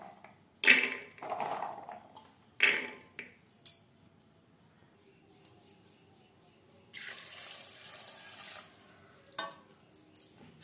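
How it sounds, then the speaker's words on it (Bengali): Soaked chickpeas being washed in water: scattered splashes and sloshing in a bowl, a tap running for a couple of seconds, and faint clinks, with no talking. "আবারও পরিষ্কার করে ধুয়ে নিয়ে ফিরে আসছি।"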